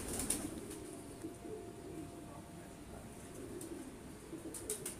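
Pigeons coo softly outdoors at a Lahore pigeon-flying competition, low murmuring calls heard faintly at a distance with occasional light rustles, the whole scene quiet.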